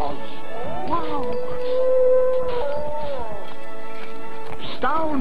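A dog howls in long, wavering drawn-out tones with shifting pitch, rising and falling several times over background talk and music.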